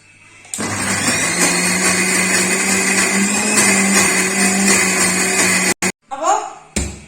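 Mixer grinder grinding a coconut and tomato masala, a loud continuous whirring drone that runs for several seconds, then stops with a few short bursts of pulsing.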